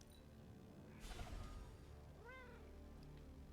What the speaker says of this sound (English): I heard the cat.